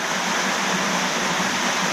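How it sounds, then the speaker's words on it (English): A waterfall at Pueblo Bello crashes continuously into a deep pool, a steady broadband roar with no pauses and no talk. "Where the waterfall actually ends, that's probably close to like 6 meters deep."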